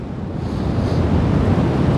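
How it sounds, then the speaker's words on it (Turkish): Wind buffets the microphone during a paragliding flight in a continuous low roar, steady and fairly loud throughout. "Rüzgarın estiği taraftayız şu anda."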